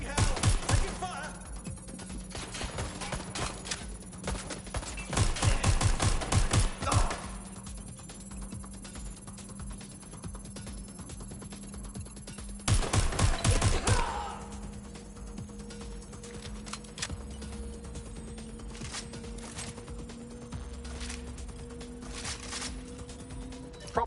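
Bursts of rapid gunfire in the video game Watch Dogs: Legion, two dense volleys of crackling shots separated by quieter stretches with a steady electronic hum and scattered clicks.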